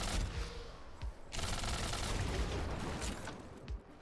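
Launcher weapon in a video game firing bubbles, a dense burst of rapid popping blasts and rumbling impacts in a busy, loud barrage with brief pauses between volleys.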